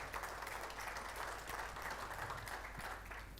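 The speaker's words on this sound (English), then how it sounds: "So I want to give you a big round of applause." A South African auctioneers' association AGM audience applauds in a hall, giving a steady, diffuse wash of clapping with no distinct voices.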